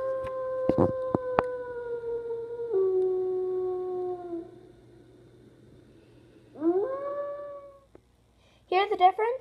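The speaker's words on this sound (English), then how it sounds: "And this is the gray wolf howl." A gray wolf howls in long, mournful tones, drops lower, then breaks into shorter rising howls and higher yips toward the end.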